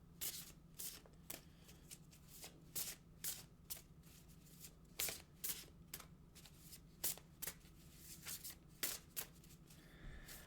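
A deck of oracle cards is shuffled by hand in quiet, close, uneven riffling bursts that repeat steadily with no talking.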